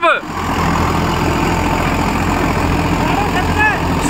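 A Swaraj 744 XT tractor engine runs steadily, a loud, continuous low drone close by, with a brief surge at the start.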